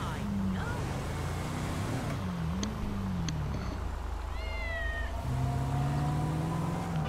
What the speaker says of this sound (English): A kitty cat.